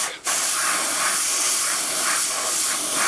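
A continuous, loud aerosol spray of black paint through a stencil onto a goalie mask hisses steadily after a short click at the start, with a few slight pulses in intensity.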